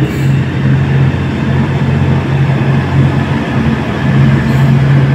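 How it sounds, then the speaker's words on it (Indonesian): A Whoosh feeder train from Bandung arriving at the station with passengers, heard as a loud, steady mechanical rumble with a low droning hum that holds for several seconds, no talk. "Saat ini kereta feeder yang dari Bandung membawa penumpang"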